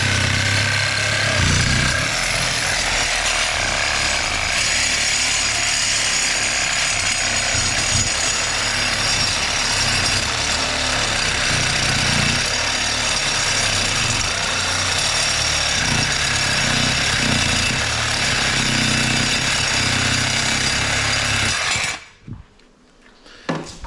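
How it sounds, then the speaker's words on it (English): A power tool cutting through a bolt so it can be removed, a loud continuous grinding, rattling roar that runs steadily for about twenty seconds and then abruptly stops, no talking. "let's get that bolt cut in half so we can get that bolt out there"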